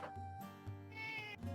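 A dog letting out a short series of whiny, meow-like vocal cries, close by and fairly quiet, sounding much like a cat.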